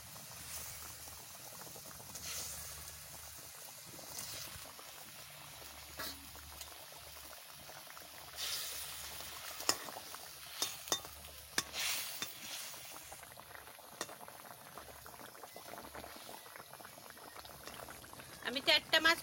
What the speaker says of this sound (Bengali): ঝোলটা ফুটিয়ে গেছে ভালো করে।